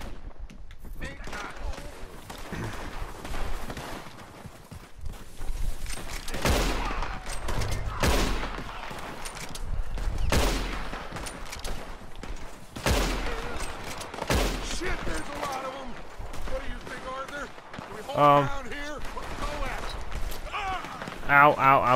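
Gunfire in Red Dead Redemption 2 during a shootout with the O'Driscolls, as shots pour from a treeline: repeated sharp cracks and volleys run throughout at moderate level, mixed with game character shouting and player speech.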